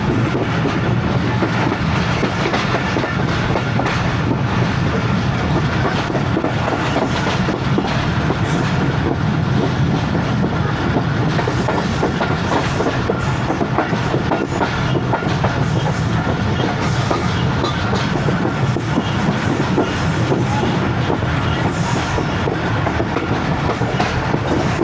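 14DN Awam Express passenger train running steadily on rails at slow speed between Padidan and Shahdadpur in winter, a continuous close rumble with faint clickety-clack of wheels and no talk.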